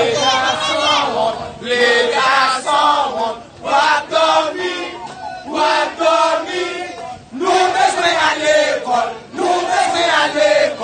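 A crowd at a street protest in Carrefour, Haiti chants a song in loud, rhythmic surges of many voices, phrases rising and falling with short gaps between them.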